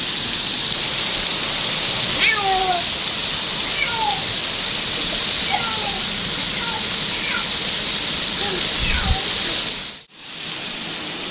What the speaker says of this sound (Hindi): बहुत ज़्यादा तूफ़ानी बारिश है।